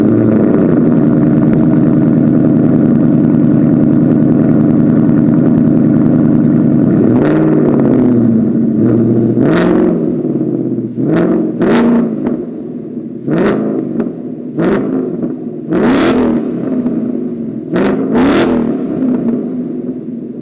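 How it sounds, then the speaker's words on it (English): A Ford Mustang's AWE Touring cat-back exhaust idles with a deep steady rumble, then revs sharply again and again in quick bursts, loud and close. "what the AWE touring cat-back exhaust system actually sounds like"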